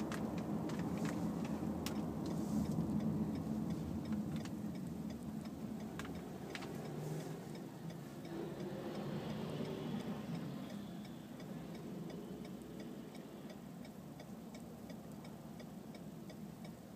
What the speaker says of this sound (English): It's funny that the turn signal is the loudest thing that I can hear as far as the road goes.